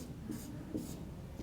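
Chalk or marker scratching on a classroom board as a teacher writes, a few short strokes in quick succession, faint and close over low room hum with no talk.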